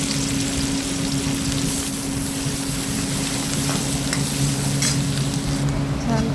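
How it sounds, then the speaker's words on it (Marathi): Chopped onion fries in hot oil in a pan as the tempering for dal tadka. The steady, dense sizzle carries on without a break, with a few faint scrapes of stirring. "छान कांदा आता मस्त तळत आहे."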